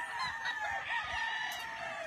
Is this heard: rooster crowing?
yes